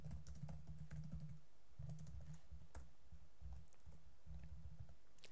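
Steady typing of Java code on a computer keyboard, soft clustered keystrokes in short runs separated by brief pauses, close and fairly quiet with no voices.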